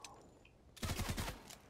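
Video game assault rifle with a thermal scope firing a rapid burst of automatic shots after a quiet moment, loud and close, each shot crisp and punchy.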